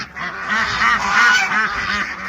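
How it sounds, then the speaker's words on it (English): A goose and a gander honking on a farm, loud, close repeated nasal calls overlapping one another in a continuous run. "Technically a goose and a gander."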